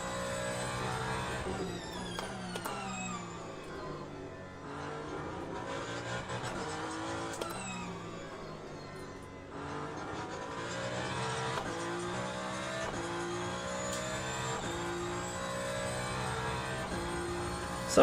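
Race car engine in the Le Mans Ultimate sim at Sebring, a steady loud drone with rising and falling gear-change sweeps as the car accelerates and shifts through a lap, no voices.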